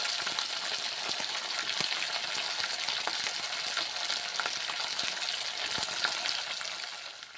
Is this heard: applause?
no